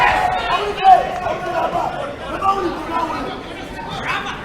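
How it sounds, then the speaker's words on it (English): A crowd at a professional boxing event roars and chatters continuously in a big arena, with a commentator's voice speaking over the noise. "I like the crowd cheering"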